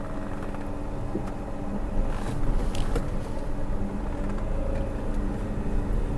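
Automatic Tata Nano engine running while driving, a steady low drone with road rumble that swells slightly midway, heard from inside the cabin with no talking.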